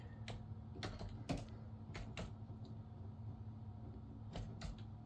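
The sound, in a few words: typing on a computer keyboard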